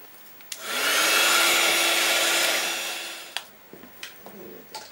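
An electric dryer blows for about three seconds over ink mist sprayed on paper, a smooth, steady whoosh with a faint hum that starts abruptly and tapers off, followed by a few soft taps and rustles.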